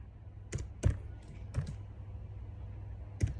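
Keys click on a computer keyboard in a few separate sharp taps with pauses between them, close and fairly quiet over faint room hum.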